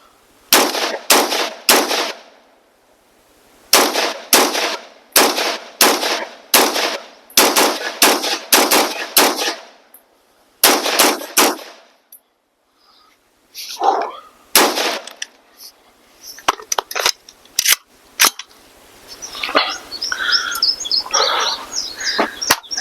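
A BRN-180 rifle fires outdoors in quick clusters of sharp, loud shots separated by short silent pauses, with some scattered handling noise near the end.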